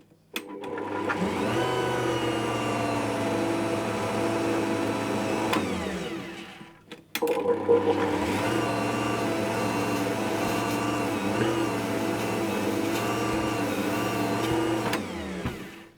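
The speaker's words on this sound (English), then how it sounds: "I'll just mix that on a low speed to get it into a shaggy dough to start with" An electric mixer works flour into a shaggy dough on low speed, a steady motor drone with a constant pitch that runs for about six seconds, cuts out briefly, then restarts and hums on until near the end.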